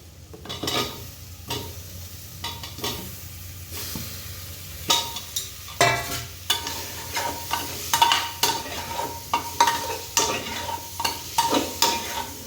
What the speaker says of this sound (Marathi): त्याच्यानंतर टाकून घेणारे बटाटे आणि टोमॅटो.